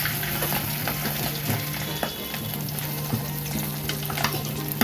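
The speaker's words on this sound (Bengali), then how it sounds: "এইভাবে মাছটা ভাজতে হবে" Singi fish fries in oil in a pan, a close, steady crackling sizzle with occasional clicks and scrapes of a spatula pressing the fish flat, no voices.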